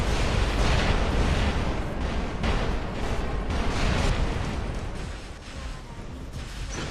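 Titans in the video game War Robots fire heavy weapons, producing dense, continuous booming and blasting at high volume with repeated bursts layered over a roaring rumble.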